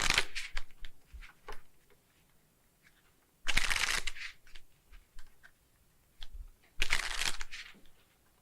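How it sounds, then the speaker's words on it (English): Playing cards being shuffled in a card-game scene, with two loud riffle-shuffle bursts separated by softer card handling and taps, close and without speech. "Okay, Mr. Plutzy, so you can shuffle."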